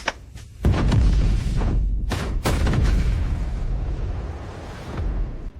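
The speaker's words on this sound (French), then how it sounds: "des coups de feu et des explosions" Gunfire and explosions from a distant battle near a small island, heard from a ship at sea: several heavy booms and sharp blasts over a dense, continuous rumble, with no voices.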